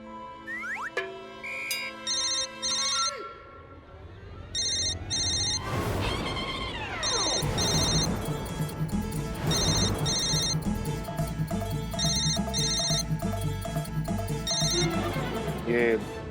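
A landline phone rings in a Hindi domestic comedy scene after a number is dialled: tones sound as the call is placed, then repeated electronic ring bursts in a regular pattern, with background music running underneath.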